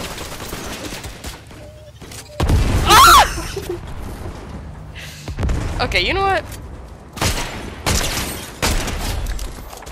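Bursts of Fortnite gunfire, several loud rapid volleys spread across the scene, separated by quieter stretches, while players talk over the action.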